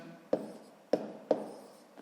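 Chalk or pen strikes while writing numbers for a column multiplication, three distinct sharp taps with short scratchy tails, close and isolated against near silence.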